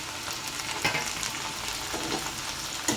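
Onion frying in a pan, with a steady crackling sizzle that runs the whole time and a few sharper pops and stirring scrapes close by, with no talk.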